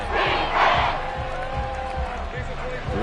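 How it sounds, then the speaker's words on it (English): Stadium crowd in a Madden football video game roars steadily at a loud, sustained level, with a commentary voice talking over the noise throughout. "This crowd doing all they can."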